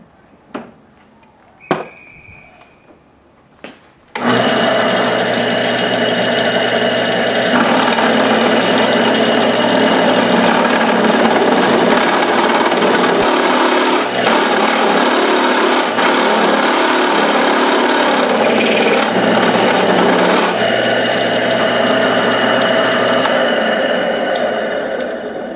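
A drill bit, oiled, bores through metal for a small gauge mount on a Suzuki GS550 cafe racer motorcycle. A few light clicks come first, then a loud, steady whining grind runs nonstop for about twenty seconds, close by with no talking.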